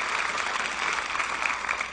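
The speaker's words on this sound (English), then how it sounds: "Give her a round of applause." An audience applauds at a corporate comedy show, with dense, steady clapping heard close and even for the whole short stretch and no voices over it.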